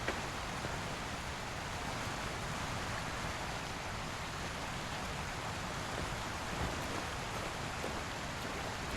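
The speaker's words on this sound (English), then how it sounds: "I love the waterfall." Waterfall in the Ultimate Hunting video game, a dense, even roar of pouring water that holds steady from start to finish, close and loud with nothing else over it.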